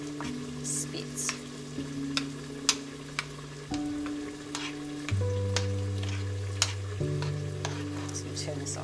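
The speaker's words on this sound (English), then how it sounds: "You've got to do it slowly because you know how tomato paste spits." Tomato paste slowly heats in hot oil in a pan for a lamb and potato curry, sizzling steadily with occasional spits and pops, close and continuous, with no voices.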